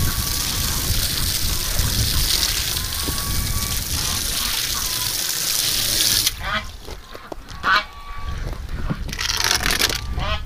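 Water splashes and patters steadily outdoors for about six seconds, like a hose rinsing something, then stops abruptly, leaving quieter outdoor sounds with a few brief bird calls.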